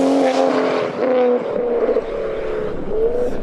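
Tuned 460bhp stage 2 Toyota Supra MKV engine roaring loud and close, holding steady revs with a strong droning tone, easing briefly and rising again through the run.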